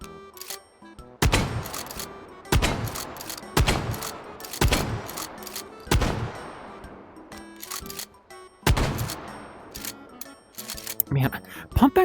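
Pump-action 590A1 shotgun being loaded and racked in the H3VR virtual reality game, with a series of sharp, loud mechanical clacks and shots at irregular intervals, close and prominent, with a voice talking between them.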